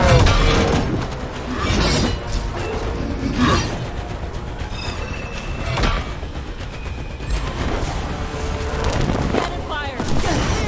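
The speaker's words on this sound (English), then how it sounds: "Cannon fire!" In the video game Dragon Age The Veilguard, cannon fire booms out in repeated heavy blasts amid crashing debris and loud battle noise, with voices shouting over the action.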